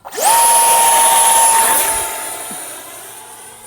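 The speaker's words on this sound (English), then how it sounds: "Timer on, throttle on, low rates, and away we go." EDF RC Viper Jet plane spooling up under throttle: a loud, steady high-pitched ducted-fan whine rises quickly, holds, then slowly fades as the model flies away, with no talk.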